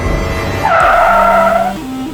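Tires shriek as a car brakes hard in a Hindi TV crime drama. A loud, wavering squeal lasts about a second, then fades into a low steady engine hum, with no voices.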